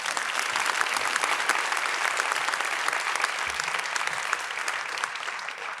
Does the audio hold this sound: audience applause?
yes